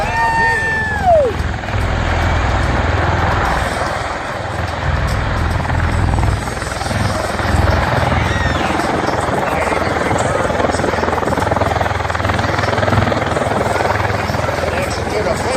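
An MV-22 Osprey tiltrotor aircraft at an air show in Hillsborough makes a vertical landing in helicopter mode, giving a loud, steady rotor roar that holds throughout, with a brief whistling tone near the start.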